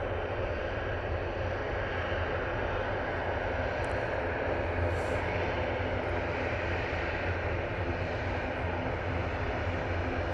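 A TUI airliner taxis at Manchester Airport, its engines a steady, loud, broad roar that holds unbroken throughout with no talk.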